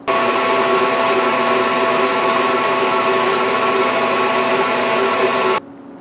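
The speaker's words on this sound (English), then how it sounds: "We're going to be mixing this at the mixer until a smooth consistency." An electric mixer whirs steadily and loudly through cheesecake filling for several seconds, then cuts off abruptly near the end.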